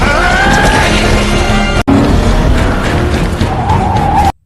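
Car skidding in a chase, tires squealing over loud continuous engine and road noise, close and intense, with a brief cut midway before the squeal resumes.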